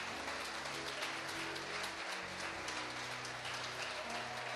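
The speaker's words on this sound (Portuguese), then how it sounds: "Dê um aplauso forte a Jesus essa manhã" Congregation applauding during a church worship service, a steady, dense wash of many hands clapping together, fairly faint and distant, lasting several seconds without speech.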